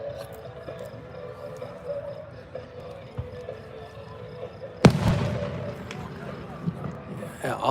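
Backyard fireworks pop and crackle in the distance on a summer night, then one sharp, loud bang bursts close by, followed by more scattered faint pops amid background murmur.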